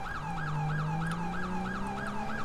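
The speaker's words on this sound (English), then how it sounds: "finally we have a beautiful siren for this" A fast yelping police siren from the LSPDFR mod for GTA 5 cycles rapidly up and down in a loud, continuous pattern over a low engine hum, with no voices.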